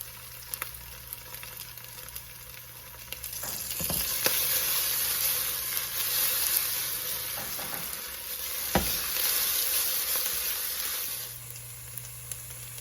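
Turkey meatballs fry in a pan of oil with a continuous close sizzle that swells louder in the middle, broken by a few sharp clicks of stirring or turning, with no voices.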